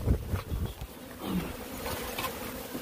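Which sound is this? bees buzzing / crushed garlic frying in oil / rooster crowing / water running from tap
bees buzzing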